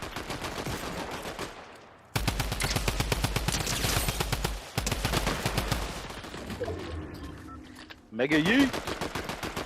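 Rapid automatic gunfire in the video game Fortnite rattles in long, loud bursts with brief gaps between them, while a player's voice talks over the shooting.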